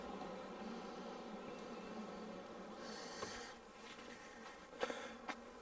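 Honey bees buzz at an open beehive during an inspection, a continuous close, low drone with a few faint knocks and scrapes near the end, and no one talking.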